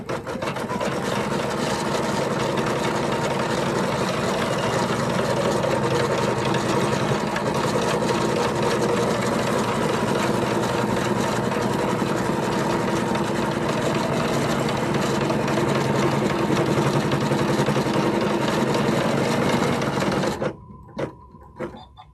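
A sewing machine stitches down an appliqué with a continuous, even mechanical whir running steadily for about twenty seconds, then stops abruptly.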